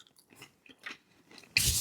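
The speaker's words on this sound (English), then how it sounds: "Banana, almost artificial banana-y taste. It's got a crispy crunch to it." A banana-flavoured energy bar from a French armed forces 24-hour combat ration pack is bitten and chewed with faint, crisp crunches, ending in a sudden loud crunching burst close to the mouth.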